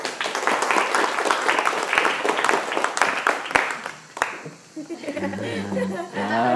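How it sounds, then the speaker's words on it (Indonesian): An audience at an Arabic-language study camp session claps in a lively burst for about four seconds with some laughter mixed in, then the clapping fades as people start talking. "Tepuk tangan dong buat semua."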